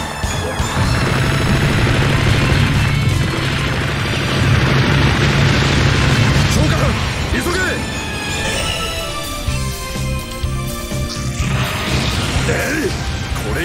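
Gundam Heavyarms unloading all its ammunition in the SD Gundam G Generation Cross Rays video game, with loud, dense barrages of gunfire, crashes and explosions. A character speaks over the bombardment.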